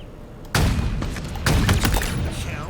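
Loud video game gunshots boom in two sharp, heavy blasts about a second apart, each with a rolling echoing tail and scattered smaller cracks after, close and punchy.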